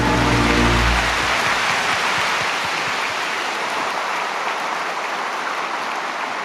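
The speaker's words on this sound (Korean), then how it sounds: "다시 한번 큰 박수로 격려해 주시길 부탁드립니다" Steady applause from a large crowd at a church missionary convention, a dense wash of clapping that holds evenly throughout without any voices.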